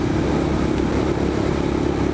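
Royal Enfield Scram 411 motorcycle engine accelerating on a highway, a steady loud low-pitched drone with wind rush, continuous and close throughout with no speech.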